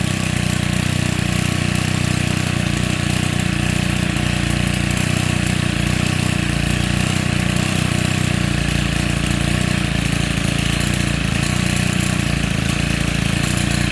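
A small two-stroke Stihl FS90 R string trimmer engine idles close by, a steady buzzing drone that continues unbroken with slight fluctuations in pitch.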